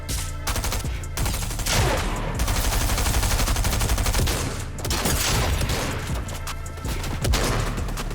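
Dense, continuous video game gunfire from a Fortnite-style firefight with SMGs and shotguns, rapid bursts and overlapping shots filling the whole stretch at loud, close range.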